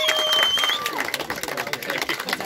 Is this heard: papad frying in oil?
no